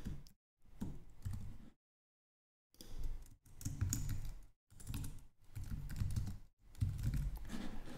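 A computer keyboard is typed on in short, quick bursts of close key clicks separated by brief silent pauses, with no talking.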